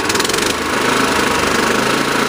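A Honda HR214 lawn mower engine runs steadily at low speed, a close, continuous mechanical drone with rhythmic knocking pulses that carries on without a break.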